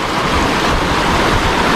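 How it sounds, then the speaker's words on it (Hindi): Loud, dense rushing water roars continuously near Mandwa waterfall in Bastar, Chhattisgarh, during rain, a steady close-up wash of sound with no voices. "ये पानी पता नहीं कहाँ से आ रही है वाला पानी, और बहुत आवाज़ कर रही है वाली पानी"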